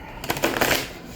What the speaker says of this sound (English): I'm gonna shuffle these cards.